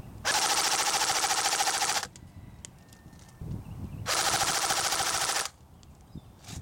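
Two long bursts of full-auto fire from a CYMA CM.050 AK47 airsoft gun shot outdoors at long range, each a rapid buzzing stream of shots lasting about two seconds, separated by a quiet pause.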